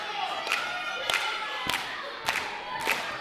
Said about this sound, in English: The crowd behind Tommy Starr